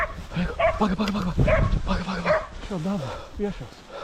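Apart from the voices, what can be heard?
dog barking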